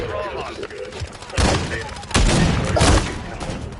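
Gunfire in a first-person shooter game comes in several loud, dense bursts with heavy low thumps and sharp cracks, mixed with excited talk from a player.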